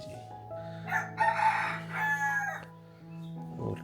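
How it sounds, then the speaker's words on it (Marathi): Rooster crowing once in a village yard in the Konkan countryside, a loud drawn-out cock-a-doodle-doo rising and falling over a few seconds, close by, with faint background hum and no talking. "ओरटे कोंबडा."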